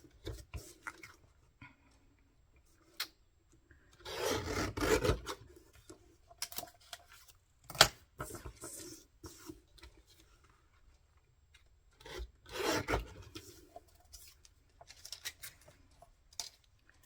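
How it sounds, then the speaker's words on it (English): Paper being trimmed for a photo slide pocket in a vintage botanical journal, with scattered close rasping cuts and handling rustles in a few separate bursts between quiet gaps. "I might just trim a little bit more off, because it might not fit in the pocket otherwise."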